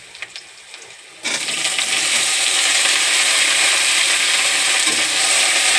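Boiled taro stolons hit a hot pan with garlic and green chilli, bursting into a loud, continuous sizzle after a quiet moment, with no talk over the frying.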